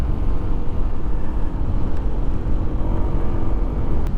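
Honda ADV 150 scooter ridden along a canal road at sunset, a steady broad rumble of engine and wind rushing past the microphone, continuous and fairly loud with no talking.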